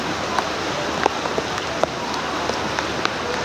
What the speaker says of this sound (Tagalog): sa sobrang lakas ng ulan, ito po yung nangyayari.